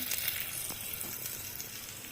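Potatoes fry lightly in hot oil for a mutton dish, giving a steady, close sizzle and hiss that runs evenly throughout with faint crackles and no voices.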